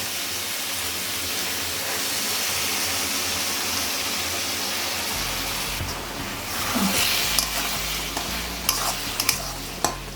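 Ash gourd ghonto with rice flour mixed in water cooks in a pan, a dense continuous hiss and sizzle, with heavier stirring scrapes and spatula knocks toward the end, close and steady.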